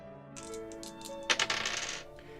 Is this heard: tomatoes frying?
no